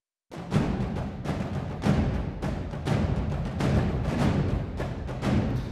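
Orchestral strings layered with cinematic toms from a sample library, with heavy tom hits recurring about once a second over a dense, sustained string bed; loud and continuous, with no talking.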